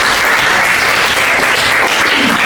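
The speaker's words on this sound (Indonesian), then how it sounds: "Terima kasih tepuk tangan." Students in a classroom break into loud, dense applause, a short steady burst of many hands clapping close by.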